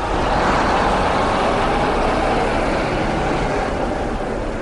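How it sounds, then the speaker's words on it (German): Flixbus coaches rolling past in a bus convoy at a demonstration in Berlin, a steady heavy diesel rumble with broad road noise, close and loud, with no voices. "Jetzt kommen die ersten Flixbusse."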